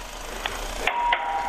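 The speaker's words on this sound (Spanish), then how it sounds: "Es el timbre de martillo el que tiene usted." A hammer-type doorbell in a home rings in two brief metallic strikes about two-thirds of a second apart, with a thin tone lingering after, against a quiet room background.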